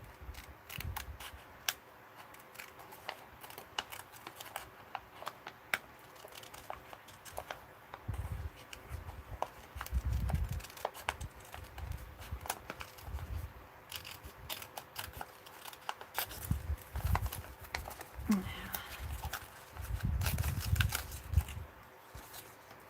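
Scissors snip through paper for an art journal in irregular bursts of crisp cutting, with rustling and handling of the sheet between cuts, close and moderately quiet.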